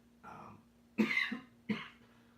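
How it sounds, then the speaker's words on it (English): Three short, dry coughs close to the mic, the first soft and the next two sharper, separated by brief pauses in a quiet room. "dry cough"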